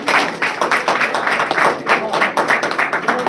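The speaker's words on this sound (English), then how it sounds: "Everybody clap." An audience claps together in a live talk setting, producing steady, brisk, moderately close applause that continues for a few seconds without a break.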